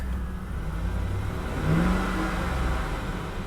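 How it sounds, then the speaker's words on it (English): A 1987 Chevy Monte Carlo Luxury Sport engine with a dead miss idles roughly, then revs up once under throttle and settles back. It is heard close and at moderate volume, with no voices. "Sounds like the misfire clears up when you give it some throttle."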